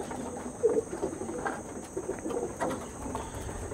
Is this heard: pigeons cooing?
yes